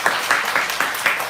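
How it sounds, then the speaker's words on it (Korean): Brief applause from a small church congregation during a Korean worship service, a short burst of clapping with a few distinct hand strikes, close and fairly loud, with no voices. "박수 하겠습니다"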